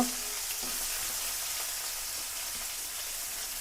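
Carrots and cauliflower fry in a pan for noodles, giving a steady, fairly quiet hiss of sizzling oil with no talk.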